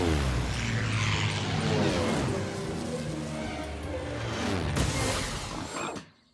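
A cartoon airplane roars and whooshes as it takes off, a loud sustained engine sweep rising and shifting across several seconds before cutting off abruptly into silence.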